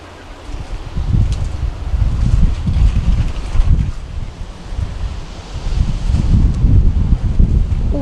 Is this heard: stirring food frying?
no